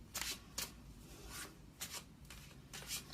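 Tarot cards are shuffled and drawn, soft papery riffles and rubbing swishes in several short bursts, close and quiet with small pauses between them.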